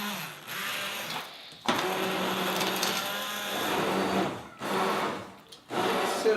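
Blender whirring through pumpkin ginger soup, a steady motorized drone that cuts off and restarts in several pulses, close and moderately loud with no talking.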